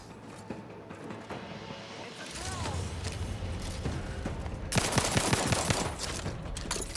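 A turret in The Outer Worlds 2 fires a rapid, sustained burst of automatic shots, with a louder, denser stretch of gunfire partway through, while a player talks over it.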